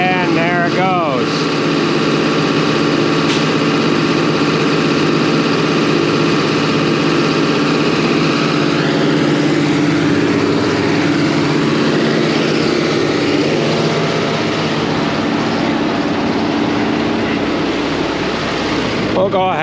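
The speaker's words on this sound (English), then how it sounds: "This will be the first bit of corn going through the hammer mill here." A steady, loud mechanical roar of a hammer mill grinding high-moisture corn, with engine drone running continuously and a brief clatter near the start.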